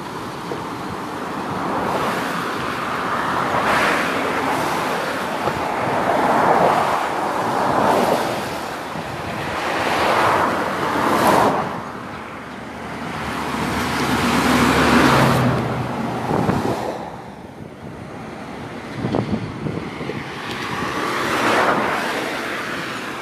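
The Ameca River in flood rushes beneath a vehicle bridge as a loud, continuous roar that swells and eases in broad waves, with passing traffic blending into the wash of water.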